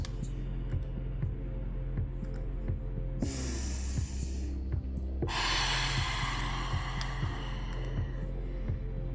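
Rhythmic breathwork during a guided class, with two long deep breaths, a drawn-in inhale followed by a strong exhale, over a steady low pulsing drone and hum.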